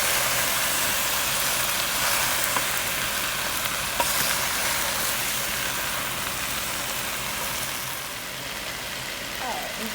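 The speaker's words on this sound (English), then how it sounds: "We're going to add in our tomatoes. We're going to add in our cauliflower. I'm going to stir that together." Tomatoes and cauliflower sizzle loudly and steadily in a hot pan while being stirred, a dense, even frying hiss that fills the whole stretch.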